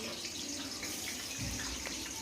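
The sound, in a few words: potatoes frying in oil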